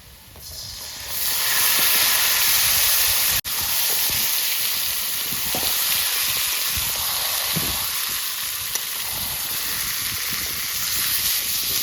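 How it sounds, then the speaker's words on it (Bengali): Chicken pieces sautéing in a pan with browned onions for a Bihari-style chicken curry, giving a loud, steady broadband sizzle that runs almost unbroken, with a brief dip and faint scraping clicks along the way. "ভালো করে মাংসটাকে কষাই"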